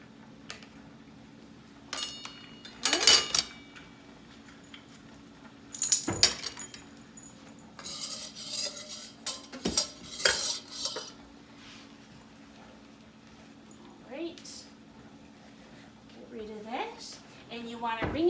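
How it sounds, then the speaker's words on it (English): Dishes, pots and cutlery clink and clatter as they are hand washed at a kitchen sink during a wash-up after baking, with scattered knocks and rattles and water sounds between bursts. "you're going to hand wash your dishes"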